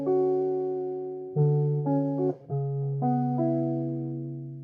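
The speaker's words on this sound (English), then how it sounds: "now I'm gonna turn on the POG 2 by Electro harmonics. Okay. Just an octave down." A melodic sample runs through an Electro-Harmonix POG 2 pedal set one octave down, giving a deep, smooth line of sustained notes that change pitch every second or so, clean and alone with no talk.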